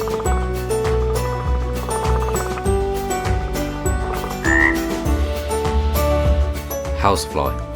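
Real frog croaks repeat in a steady rhythm, loud and close, with a continuous musical background playing underneath throughout.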